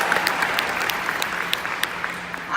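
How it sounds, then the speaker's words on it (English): A short, steady round of applause from an audience at a career conference, dense clapping filling the room without any talking. "That deserves a round of applause"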